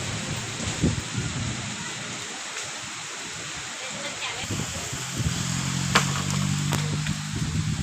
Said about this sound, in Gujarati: દક્ષિણ ગુજરાતમાં ઘણા સ્થળોએ ધોધમાર વરસાદ પડ્યો છે અને જોડે કરા પણ